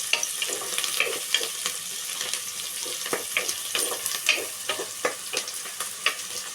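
Potato and brinjal pieces frying in a pan for a curry: a constant close sizzle broken by frequent sharp spatters and spoon scrapes from stirring.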